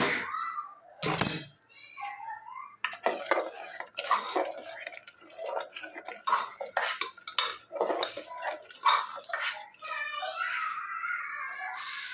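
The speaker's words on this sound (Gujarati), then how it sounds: "ગેસ બંધ કરી દીધું અને જે આપણે મસાલો કર્યો છે એ દાળમાં નાખી દઉં." Tempered spices being poured into dal in a pot for sambar after the gas is turned off: clinking spoon and utensil knocks, stirring and scraping, a brief splashy sizzle, with faint voices nearby.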